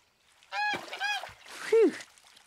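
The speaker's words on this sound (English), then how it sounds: "That's a goose, but it's a different goose." A cartoon goose gives three loud, nasal honks in quick succession, close and alone. The last honk is the strongest and is pitched lower than the first two.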